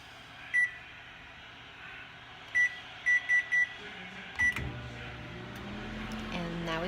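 Microwave oven cooking with a Tupperware pressure cooker of pot roast inside, giving a string of short beeps, one single and then several in quick succession, before a door clunk and handling noises.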